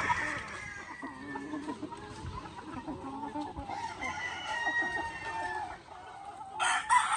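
Heritage cross Asil roosters crowing on a farm, several drawn-out crows repeating across the stretch over a busy outdoor backdrop with other fowl clucking nearby.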